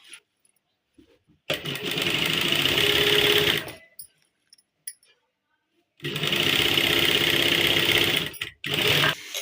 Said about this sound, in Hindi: इस तरह से हम ऊपर तक सिलाई मार देंगे।